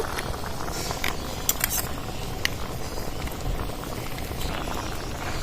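Flour dumplings boiling in a sauce, a continuous bubbling, popping simmer close up with a few light clinks, no voices.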